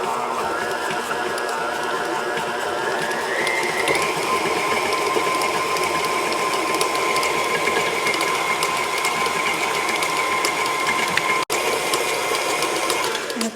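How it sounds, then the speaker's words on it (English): A stand mixer fitted with a flex edge beater creams butter and sugar for chocolate chip cookie dough, a steady whirring motor drone that steps up in pitch after a few seconds as the speed rises, running continuously and close. "I am going to beat this until the butter and the sugar is nice and fluffy"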